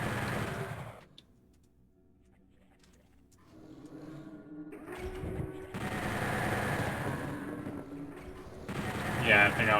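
Chain gun in the video game Doom 64 firing in loud rapid bursts near the start and again through the second half, with a quieter gap in between and a background game soundtrack.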